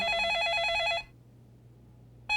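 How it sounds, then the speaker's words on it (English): A telephone rings in a home with a warbling electronic bell, one loud ring cut off by a pause of over a second before the next ring begins, close and clear with no talking. "Get in the door, the phone's ringing."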